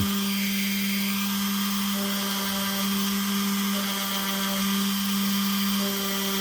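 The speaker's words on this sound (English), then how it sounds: "Doing the Dremel work on plywood is a little different than doing it on pine." A Dremel rotary tool carves stars into plywood, a steady, fairly faint high whine that runs without a break and shifts slightly in tone as the bit works the wood.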